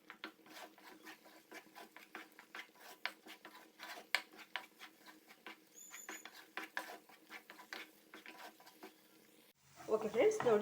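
Leftover rice being stirred and mixed with spicy egg masala in a pan, giving a steady run of soft scraping, patting and rubbing strokes at close range, ending with a louder burst of handling noise.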